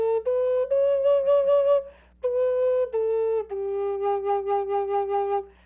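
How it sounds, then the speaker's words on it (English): A low D penny whistle plays a short melody of clear, sustained breathy notes, close and fairly loud, with a brief pause midway and no talking. "Compare it now to the penny whistle."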